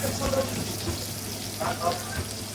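A cup of chopped onions fries in a cup of hot oil with a few bay leaves for polao, giving a soft, steady sizzle and hiss at low level while someone talks over it.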